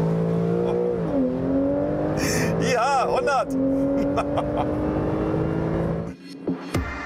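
A turbocharged Porsche 911 Carrera S launches under launch control, its engine rising steadily through the gears with a brief shift break, loud from inside the car, and a voice speaks briefly near the end.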